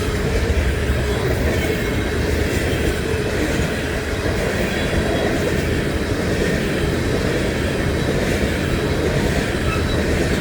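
A BNSF freight train of empty grain cars rolling past close by in Montana, a loud, steady rumble of wheels and rattling cars with a continuous broad roar and no speech.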